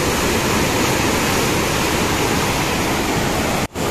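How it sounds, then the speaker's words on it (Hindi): Huge volume of water roars out of the Koshi barrage in Nepal, a loud, steady, broadband rush heard close up that continues without a break and cuts out sharply near the end, with no voices. "लाखों की क्यूसेक पानी यहां से डिस्चार्ज किया जा रहा है।"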